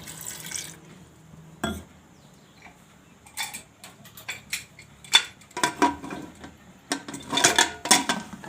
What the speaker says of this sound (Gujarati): થોડુંક પાણી એમાં નાખશું આપણે